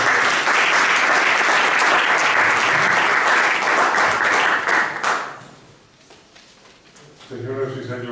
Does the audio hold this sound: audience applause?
yes